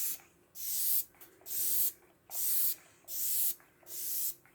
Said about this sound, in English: I'm first going to spritz my face with some NYX Bear With Me.